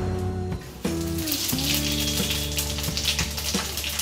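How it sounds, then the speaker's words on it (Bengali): Panch phoron spices sizzling in hot mustard oil, a bright, continuous crackling hiss like light rain. A low steady hum sits underneath it. "তেল গরম হয়ে গেছে, এখন আমি ফোড়ন হিসেবে 5 ফোড়নটা দিয়ে দিচ্ছি।"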